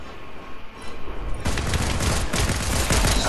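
Dense automatic gunfire bursts out in a video game, quiet at first and then a sustained, loud rattle of rapid shots with overlapping volleys from about halfway on.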